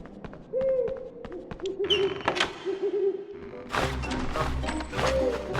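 Owls hoot in the Harry Potter PS1 game, with several short, mid-pitched hoots over a ticking, clicking game backdrop and a few thuds and crashes.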